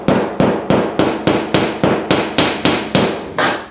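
Nylon drywall anchors are hammered into a bathroom wall with about eleven sharp, evenly spaced hammer strikes, each ringing briefly and loudly up close with no voices.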